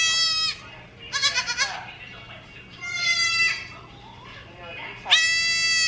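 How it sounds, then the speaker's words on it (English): A baby goat bleats loudly and close by, giving about three wavering, high cries separated by short pauses. "this is a baby goat."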